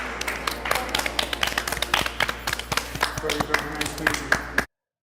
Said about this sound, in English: You can clap for yourself.